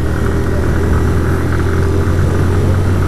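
A 2022 Honda CG 160 Fan motorcycle engine runs while riding with a passenger, a steady mid-pitched drone with wind noise, close and continuous with no talk.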